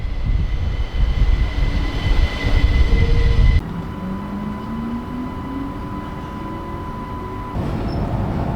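A train on the Erlauftalbahn in Lower Austria rumbles loudly into Purgstall station, then its noise drops to a steady hum with a slowly rising whine as it comes to a halt.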